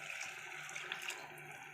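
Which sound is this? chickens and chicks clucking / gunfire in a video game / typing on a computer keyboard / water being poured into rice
water being poured into rice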